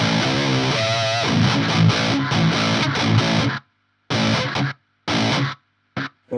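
Electric guitar played through a Hughes & Kettner TriAmp Mark 3 with double boost, a loud, heavily distorted riff for about three and a half seconds, then short choppy bursts separated by sudden silences.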